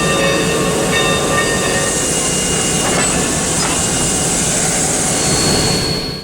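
Sierra Railroad steam locomotives number 28 and number 38 back slowly onto a train. A loud, continuous mechanical rumble carries steady whining tones over it and holds its level throughout, with no voices.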